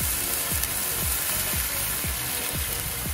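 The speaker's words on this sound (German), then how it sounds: "Rotwein auffüllen." Red wine poured into a sizzling Dutch oven on a gas grill, a steady loud frying hiss with repeated bubbling pops roughly every half second, alone without talk.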